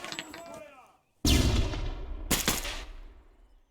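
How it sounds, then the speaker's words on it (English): A flashbang thrown through a doorway in a tactical shooter video game goes off with a sudden loud, close blast after a brief silence, followed by a second sharp bang and a ringing, decaying tail over faint voices. "you just let your own know when your flashbang's ready, and then he will open the door for you, and you will throw it"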